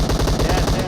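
Rapid automatic gunfire from a battle royale video game rattles loud and close in a dense, continuous burst of evenly spaced shots.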